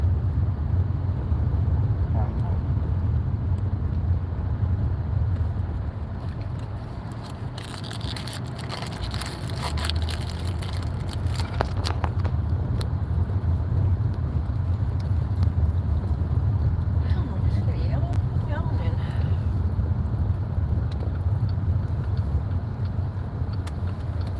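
A car rolls along and pulls up at home, a steady low road and engine rumble inside the cabin with some rattling and crunching noises midway, no talk heard.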